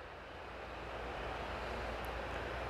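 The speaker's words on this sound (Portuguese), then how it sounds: "Eu já escuto o drone." A DJI Mavic Pro Platinum drone flies overhead as a steady, even whir of broadband noise that builds slightly in strength, heard alone without any talking.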